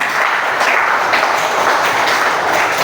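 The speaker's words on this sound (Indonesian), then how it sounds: "tepuk tangan" A classroom full of students applauding together, a dense steady burst of clapping that holds at an even, fairly loud level throughout.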